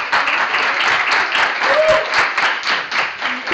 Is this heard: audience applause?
yes